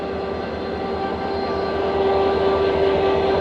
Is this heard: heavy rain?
no